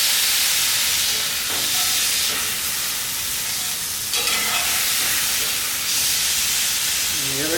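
Steak edge pressed into a hot pan, searing with a loud continuous sizzle and hiss that stays steady and close throughout, no voices.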